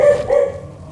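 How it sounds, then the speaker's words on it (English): A single dog bark, close and fairly loud, with a short tonal yelp at the start and a quieter tail trailing off. "I don't know why he's barking"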